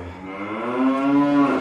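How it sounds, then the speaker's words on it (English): A single cow moos in one long, rising, harmonic-rich call lasting over a second, loud and close, with no other sounds or voices around it. "Cows in the kitchen."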